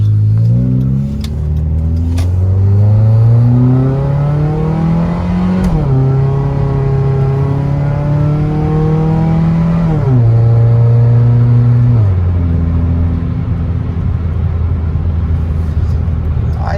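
A 1994 Saturn SL2 twin cam car accelerates from inside the cabin, engine note rising through the gears with clear drops at each shift, loud and steady with no talking.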